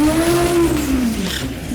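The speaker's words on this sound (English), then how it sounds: "that 4-cylinder just sounds like it's all turbo" A 1968 Chevy Camaro's 1,200 hp turbocharged 4-cylinder engine revs loud and close, a strong rising whine that holds steady and then sweeps down over a couple of seconds, with no voices over it.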